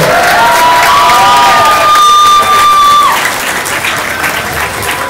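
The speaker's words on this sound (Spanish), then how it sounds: "¡Los queridos aplausos!" A large audience claps loudly and continuously at a concert during a patronal festival, with cheering and scattered shouts and whistles rising over the applause before it eases slightly toward the end.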